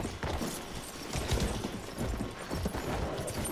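Galloping horse hooves in the World War I shooter Battlefield 1, a steady busy patter of hoofbeats at close range with dense game noise layered over it throughout.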